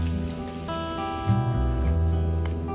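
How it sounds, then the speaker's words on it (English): Steady rain falls in the woods during a hunting trip, a soft continuous hiss over a low, sustained background hum with no voices. "just going to be a peaceful sit in the woods, listening to the rain"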